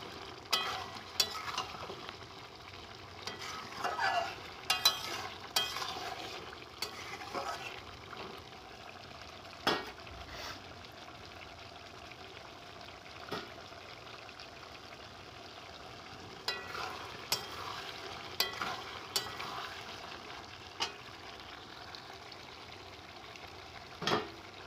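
Spice masala for a curry of katla fish, about one and a half kilograms, being stirred and sautéed in oil, with soft scraping stirs and a low sizzle, and a few sharper clinks scattered through, no talking.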